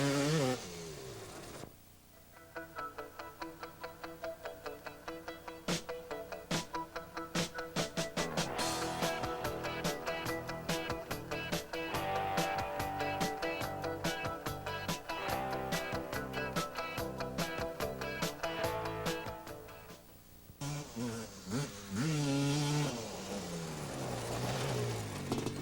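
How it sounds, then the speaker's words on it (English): A racing ATV engine bogs after the wrong gear is selected, with a sustained mid-pitched drone that struggles and stutters through its revs for about twenty seconds before easing off. It sounds close, with no talking. "improper gear selection causes the engine to bog"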